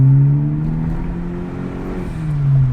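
Turbocharged car engine accelerating in sport mode, a low droning tone that rises slightly, steadies, then swells again as the revs climb, heard from inside the car with no talking.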